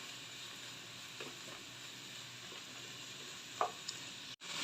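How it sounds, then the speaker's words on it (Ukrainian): Carrot and onion fry gently in sunflower oil, giving a soft, steady sizzle with a few faint pops and clicks. No voices are heard. "кількості соняшникової олії я буду обжарювати моркву і цибульку"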